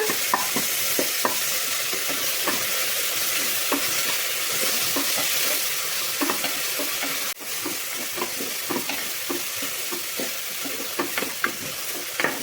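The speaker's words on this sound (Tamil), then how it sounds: "தக்காளி வந்து நல்லா வணக்கிக்கோங்க" Tomatoes fry in oil with salt for chicken biryani, a steady close sizzle punctuated by regular scraping strokes of a spoon stirring the pan throughout.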